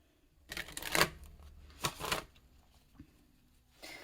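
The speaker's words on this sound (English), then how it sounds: "I'm going to go ahead and talk while I'm shuffling your tarot cards here." Tarot cards being shuffled by hand, heard as a few short, crisp riffling bursts close by with quiet pauses between them.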